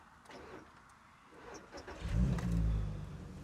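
A V6 engine in a Volkswagen Golf R32 idles low, then swells into a louder, throaty rumble as it revs, close by with no one speaking.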